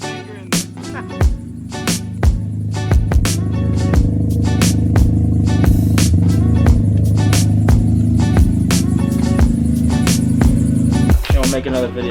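An RB25-swapped Nissan S13 idles with a loud, rough, lumpy rumble, broken by sharp pops and crackles, then builds into a steady rev that holds before dropping off near the end.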